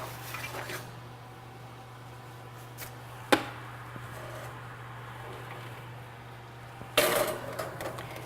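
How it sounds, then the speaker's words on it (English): Metal baking pans of almond cookies being swapped between racks in a home oven: two sharp clanks several seconds apart, with light rattling, over a quiet steady kitchen hum. "it's time for us to switch our pans in the oven"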